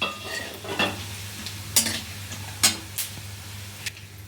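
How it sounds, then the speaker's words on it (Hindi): Whole spices, cardamom pods and cinnamon pieces, crackle in hot oil for a tempering in an Indian kitchen, giving a steady frying hiss broken by several sharp pops and a stirring clink. "मसालों को थोड़ा चटका लीजिए।"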